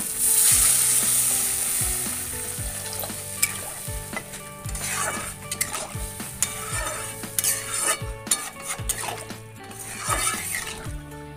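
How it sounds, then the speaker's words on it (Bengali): A pan of fried spice paste for a rohu fish curry with eggplant and potato hisses loudly as water goes in, then sizzles and bubbles while a spoon scrapes and stirs with repeated clinks. "তো এবার আমি ওর মধ্যে অল্প করে জল দিয়ে দিচ্ছি।"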